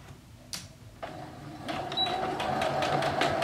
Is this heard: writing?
no